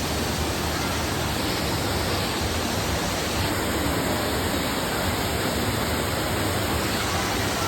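An indoor waterfall in a Thai shopping mall gives off a steady, dense rush of falling water that fills the space evenly without a break, loud and close, with no talking.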